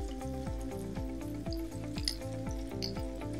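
Ginger and garlic fry in oil in a pan for kothu parotta, a continuous close-up sizzle with quiet background music, with no talking.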